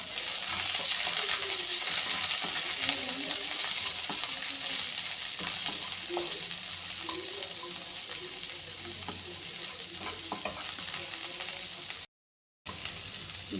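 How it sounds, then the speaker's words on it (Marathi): Cabbage fries in a hot wok for schezwan Hakka noodles, a dense continuous sizzle up close with occasional light clinks and scrapes, cutting out briefly near the end. "आता आपण कोबी ॲड करूया ते फ्राय करून घेऊया"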